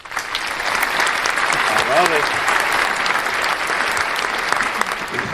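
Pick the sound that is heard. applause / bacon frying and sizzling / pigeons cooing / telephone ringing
applause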